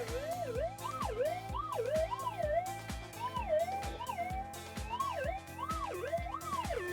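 A Minelab GPX 6000 gold-prospecting metal detector gives a loud warbling tone that rises and falls repeatedly, over a steady train of low rhythmic pulses, close and continuous.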